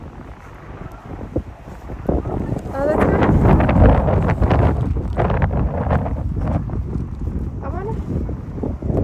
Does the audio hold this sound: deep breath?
no